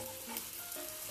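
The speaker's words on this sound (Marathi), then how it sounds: "खरपूस असे फ्राय करून घ्यायचे आहेत" Beet cutlets fry in a pan with a steady, soft, even sizzle that continues without a break and with no voices.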